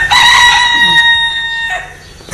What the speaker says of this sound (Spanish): Aí que andan as gallinas.